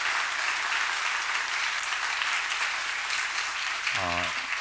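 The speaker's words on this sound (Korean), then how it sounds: "이렇게 우리 하나님께 영광의 박수 한번 올려드릴까요?" A church congregation applauds during a Sunday service, a dense, steady clapping from many hands, with a brief voice breaking in near the end.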